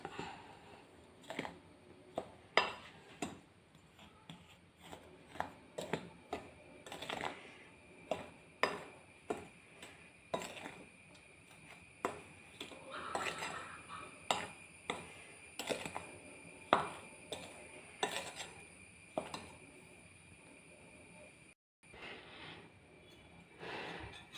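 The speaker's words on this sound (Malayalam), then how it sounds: "ഇതെല്ലാം കൂടി ഒന്ന് മിക്സ് ചെയ്യാം" Ghee biscuit dry ingredients, flour with a little salt, being mixed in a bowl, giving a steady run of close, fairly quiet clinks and scrapes with no talking.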